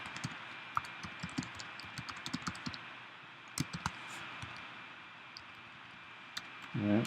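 Close clicks and taps of a computer keyboard come in uneven bursts with short pauses, fairly faint over a quiet room hum, ending in a brief louder rustle.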